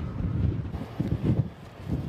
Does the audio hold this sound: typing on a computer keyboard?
no